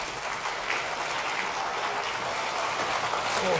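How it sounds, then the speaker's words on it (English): An audience at an energy technology conference applauds the session speakers, a soft, steady wash of clapping heard from a distance throughout. "A big round of applause."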